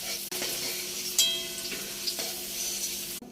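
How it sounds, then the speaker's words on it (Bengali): Potato and papaya pieces frying in a pan with salt and turmeric, a continuous close sizzle with small crackles and a scrape of stirring. "আলু আর পেঁপে ভাজা হয়ে গেছে"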